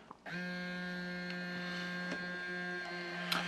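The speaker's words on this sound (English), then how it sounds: "it's actually quite amazing how fast the printer goes compared to the SP-2" A Fujifilm instax Share SP-3 printer prints a photo, starting with a soft click and then giving a steady, even motorised whir that holds for several seconds, close and fairly quiet, with no talk.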